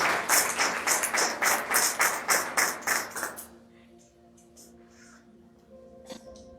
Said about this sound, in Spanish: Démosle un aplauso a ellas dos